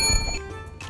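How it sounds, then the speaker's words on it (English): A quiz timer bell marking the end of five seconds sounds as a bright, sustained ring over a busy room background. "At the end of 5 seconds, you will hear a bell which sounds like this."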